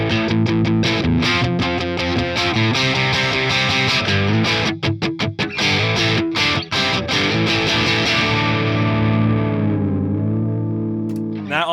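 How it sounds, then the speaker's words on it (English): An electric guitar, a cheap model bought on Amazon, plays through a Boss Katana amp on a crunchy distorted setting, with chords strummed and chopped rhythmically before a final ringing chord that decays; nobody speaks. "So now this is to the Boss Katana on a crunchy setting."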